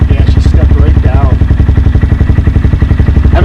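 A motorcycle fitted with a Yoshimura exhaust idles close by, a steady, even loud pulse with no revving, and brief voices surface over the engine.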